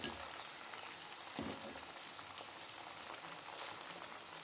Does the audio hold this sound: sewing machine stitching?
no